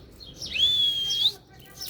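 A single bird chirps outdoors in a long, high, sliding whistled call, moderately close and clear over a faint low background rumble, with a brief fainter chirp at the end.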